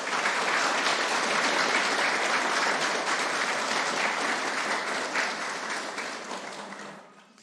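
Sustained applause from an audience at a church gathering, dense and steady clapping that fades out toward the end.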